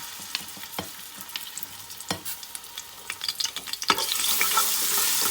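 Garlic paste sizzles in a little hot oil for a mutton nihari, a steady crackling fry with scattered sharp pops and spatters, growing louder and hissier toward the end, no voices.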